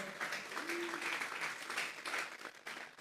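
A church congregation claps for God during a sermon, a steady wash of hand claps lasting throughout at moderate distance, with a faint voice briefly audible underneath.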